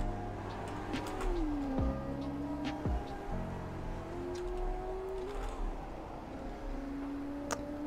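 A car in Roblox Greenville accelerates during a speed test, its engine tone climbing through the gears of a 4-speed with pitch drops at the shifts, steady and moderately loud with faint clicks.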